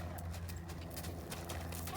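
Horses next door run around, giving steady clip-clop hoofbeats with a possible whinny, close and fairly loud, while someone talks over them.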